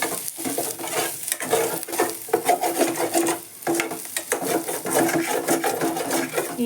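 Potato fry with curry leaves cooks in a pan, sizzling under repeated scraping stirs from a spatula that come in irregular bursts close to the pan, with no talking.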